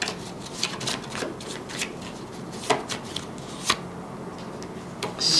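Tarot cards shuffled by hand in a quiet room, a steady run of soft riffling and sharp snapping bursts, close and without talk.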